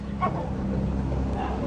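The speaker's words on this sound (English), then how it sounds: "he's about to bark" A dog named as a male pet gives a brief bark or yip early on, close by and fairly loud, over a steady low room hum, in an indoor home setting.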